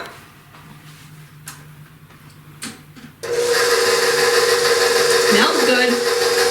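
Pumpkin baking batter is mixed, with a few faint knocks and scrapes at first, then an electric mixer switches on midway and runs loud and steady through the rest, its pitch dipping briefly near the end.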